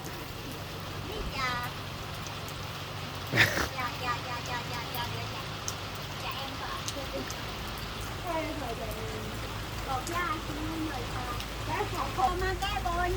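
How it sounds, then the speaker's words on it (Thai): Steady rain falls as a constant wash of patter at a roadside cafe, with a car passing and people chatting and greeting each other over it. "มาพร้อมฝนเลยนะครับ"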